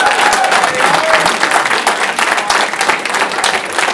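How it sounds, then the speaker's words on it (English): Applause and crowd clapping ring out at a bowling tournament semifinal for the winning bowler, Matthew Harms, dense and steady with a few sharper individual claps and faint crowd murmur. "let's give a round of applause for Matthew Harms"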